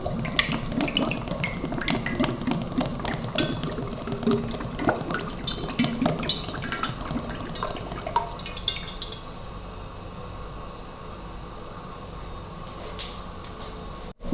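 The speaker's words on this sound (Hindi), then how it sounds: "ऑयल डालेंगे इसके अंदर" Cooking oil poured into a pan over a lit flame for frying chicken doughnuts, a steady liquid trickle with small splashes and drips through the first half, easing into a quieter low simmering hiss near the pan.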